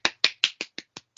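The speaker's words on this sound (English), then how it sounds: "Claps, claps, claps." A few people clap briefly, seven sharp, close hand claps in a quick, slightly uneven rhythm, heard alone in a quiet studio setting.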